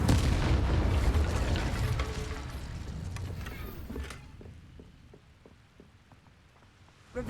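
In Hogwarts Legacy, the Incendio fire spell is cast: a loud, rumbling burst of flame that gradually dies away over several seconds into quieter crackles and ticks, ending with a sudden soft thump.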